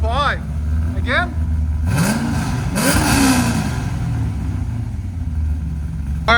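LS3-swapped C5 Chevy Corvette with Valvetronic mufflers revving hard: a loud, close V8 idle punctuated by two surging throttle blips that climb and fall, with brief rising whines near the start.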